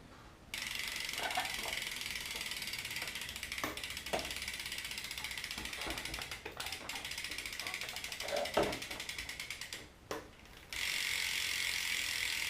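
A BMX bicycle's chain ratchets steadily on its rear sprocket at close range, a fast continuous clicking of the freewheel pawls with brief pauses and no talk.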